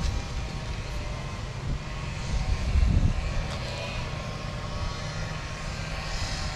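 A camera drone flies overhead above a walled country plot with a lake in Itanhaém, São Paulo, producing a steady, even whirring hum with a slight swell partway through and no voices.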